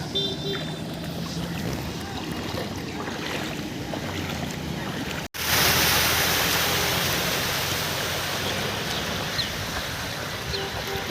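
Floodwater pours across a main road in the Barak Valley as a continuous broad rushing roar, which cuts out briefly halfway and then returns louder and closer.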